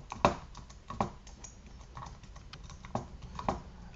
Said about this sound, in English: you'll type in your Microsoft account information, so email address and password